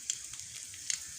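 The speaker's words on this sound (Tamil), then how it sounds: "வரமிளகாய் எண்ணெய் தெரிக்கும்." Dried red chilies sputter and crackle in hot oil over a low flame, a faint steady sizzle broken by a couple of sharper pops.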